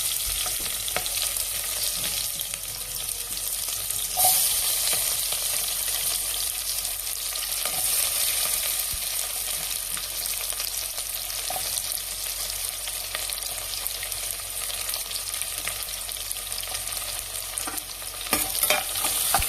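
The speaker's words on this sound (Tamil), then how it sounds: "வெங்காயத்தை போட்டு நல்லா ஃப்ரை பண்ணிக்கிறோம்." Onions sizzle in a pan with cinnamon and cloves, a steady close hiss of frying broken by occasional scraping stirs, with no voices over it.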